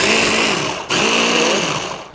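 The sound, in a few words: electric mixer mixing butter for cheesecake crust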